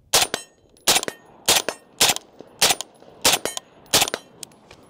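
A Scar 16 SBR rifle fitted with a variable 1x-4x optic fires seven loud, sharp shots at a steady pace, each crack followed by a short echoing tail.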